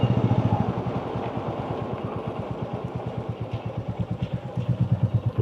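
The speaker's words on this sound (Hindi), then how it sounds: "तो फिलहाल बाइक लगाते हैं बाहर।" Motorcycle engine idling close by with a steady pulsing thump and light clatter as the bike is parked outside in sunny weather, running alone without talk.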